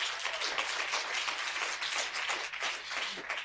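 A seated audience at a panel discussion gives a round of applause, a steady, fairly soft wash of many hands clapping that carries on without any talking.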